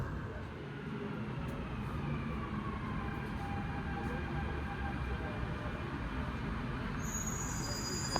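A Dubai Metro Red Line train rumbles steadily along with low, continuous rolling noise and a faint high whine near the end.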